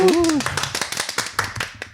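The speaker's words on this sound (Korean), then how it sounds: "우리 게스트 나왔다고 박수 치는 거는" Studio audience clapping to welcome a guest, a short burst of quick, close hand claps under a brief voice at the start.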